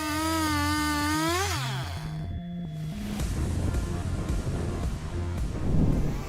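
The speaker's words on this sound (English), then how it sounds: "The National Style MS661 saw can create smooth boards and slats with great precision" An MS661 chainsaw cuts large poplar logs into boards and slats: a loud, rising engine whine with sweeping pitch gives way to steady, dense, rasping cutting noise that swells near the end.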